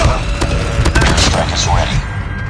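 Predator missile strike explosions in Call of Duty Mobile, a dense barrage of loud booming blasts and crackling impacts with gunfire-like bursts, close and continuous.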